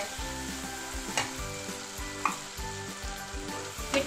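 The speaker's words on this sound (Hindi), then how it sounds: "अब हम इसको अच्छे से भून लेते हैं।" Hot oil sizzles and crackles steadily as spices and tomatoes for dal tadka fry in a pan, with a few scrapes of stirring, close up and without any voices.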